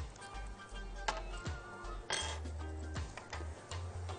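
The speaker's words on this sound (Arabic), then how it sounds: "هاخد كده البرطمان بقى وابدا ارصه" Onion pieces being packed by hand into a glass jar for pickling, with repeated light clinks and knocks of vegetables and utensil against glass, close and fairly quiet, with no one talking.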